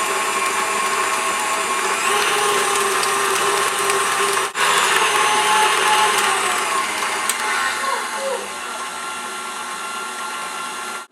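Eggs being beaten for maple stout bread batter with an electric mixer, a steady, loud whirring motor hum running continuously for about eleven seconds with a brief dip midway.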